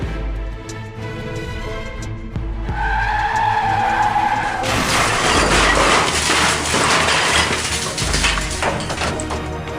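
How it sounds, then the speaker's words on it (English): Tires squeal as a car skids, then it crashes into a coffee shop entrance with a loud burst of clattering and shattering debris that goes on for several seconds. "Car crashed into a coffee shop entrance, narrowly missing a man who quickly moved aside."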